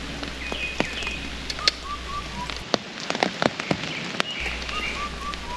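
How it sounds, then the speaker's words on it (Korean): Steady rain patters on leaves in a forest, with scattered drips and occasional bird calls chirping in the background. "빗방울과 나뭇잎과 새소리가 만들어내는 숲 공연장입니다"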